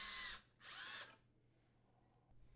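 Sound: power drill drilling pilot holes in dishwasher door panel

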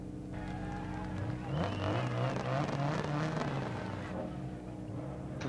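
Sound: 1998 Honda Civic coupe rally car engine in DiRT Rally video game

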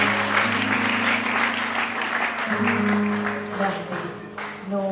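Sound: audience applause in church

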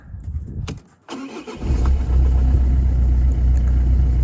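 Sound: car engine starting and idling

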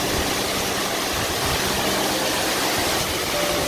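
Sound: waterfall

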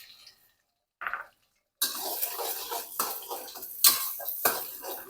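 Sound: stir-frying eggs in a pan

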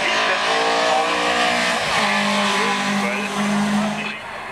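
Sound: VW Golf race car at Gurnigel hill climb

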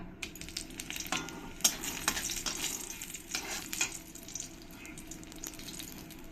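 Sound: frying dried red chillies in hot oil in a wok

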